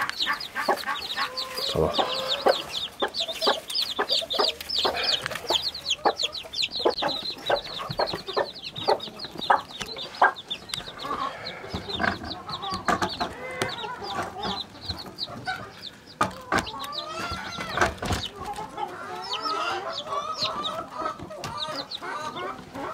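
Chickens cluck and chatter continuously, close by and fairly loud, with a brief spoken word among the busy flock.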